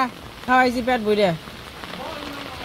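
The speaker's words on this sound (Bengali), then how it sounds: "তেমন বৃষ্টি নামছে, এই বৃষ্টি যে কয়দিন থাকবো।" Steady rain patters down in a Bangladeshi village, a soft constant wash that carries on beneath a person's brief spoken line.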